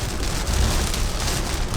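Steady rain pattering on a BMW's body and windshield while it drives, a dense, even hiss of drops with low road rumble beneath, close and continuous throughout.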